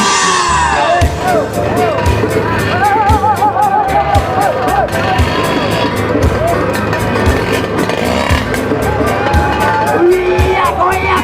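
At a scooter riders' gathering, a dense crowd cheers, whoops and shouts loudly and continuously, with excited voices and cries layered over a constant babble close by.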